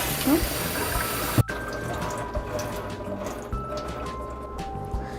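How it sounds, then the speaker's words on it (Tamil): Rice is rinsed under a running tap, a loud gush of water that cuts off abruptly, leaving soft trickles and drips. "ரன்னிங் வாட்டரில் ஒரு டைம் அலசிடுங்க."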